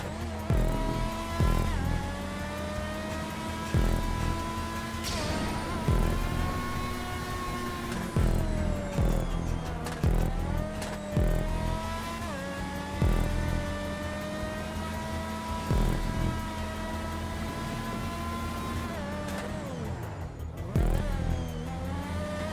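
An open-wheel race car in GTA Online screams around a lap, its high-revving engine whining steadily through repeated upshifts and downshifts with sharp pitch drops at gear changes, loud and close the whole way.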